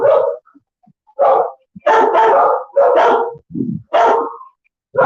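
A dog at the Hawaiian Humane Society animal shelter in Honolulu barks repeatedly, loud and close, in a string of sharp woofs with short gaps and a lower grumble mixed in.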